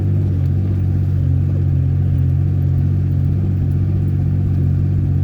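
Toyota Tacoma pickup drives through icy snow, its engine holding a loud, steady droning rev with faint clatter from the truck over the whole stretch.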